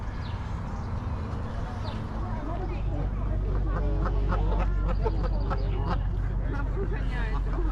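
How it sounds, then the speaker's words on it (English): Geese in Toronto's High Park honk and squawk repeatedly in a loose, busy chorus at close range, over outdoor ambience and background chatter. "watch out for these geese."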